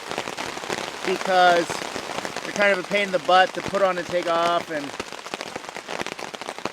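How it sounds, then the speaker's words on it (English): Heavy rain at a campsite falls as a steady, dense patter and crackle throughout, while someone talks over it at close range. "But this rain seems fairly serious for the moment."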